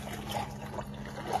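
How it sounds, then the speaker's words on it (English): Tea poured into a cup, a soft continuous trickle of liquid lasting about a second and a half at low level, with faint background noise and no talk. "We're gonna pour the tea in."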